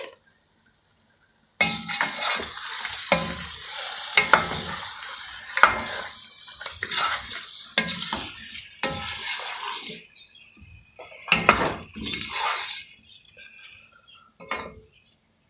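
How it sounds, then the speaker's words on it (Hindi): A spoon clinks and scrapes against a pan while mixing salt, red chilli and turmeric for Sindhi biryani, in irregular bursts of clattering separated by brief silences, with no talking. "जरूरत के मुताबिक नमक, 2 चम्मच लाल मिर्च और आधा चम्मच हल्दी डाल के हम इसे मिक्स कर लेंगे"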